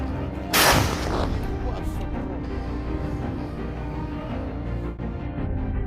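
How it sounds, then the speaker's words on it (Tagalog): An explosion at the Chonhar checkpoint linking Crimea to the mainland, recorded from the ground on the Russian side: one sharp, loud blast near the start, followed by a steady heavy roar of background noise. "Ang pagsabog ay na-video mula sa lupa sa panig ng Russia."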